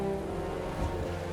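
Rain falling in a video game, a short, steady wash of dense, hissing drops at moderate loudness with no voices over it.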